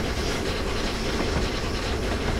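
The Flying Scotsman running in the RailWorks simulator game gives a dense, steady rumble with a rhythmic rolling clatter and hiss, continuous and close for the whole stretch.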